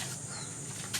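Young pigeons in a coop flapping their wings, a short soft burst of fluttering with faint background noise.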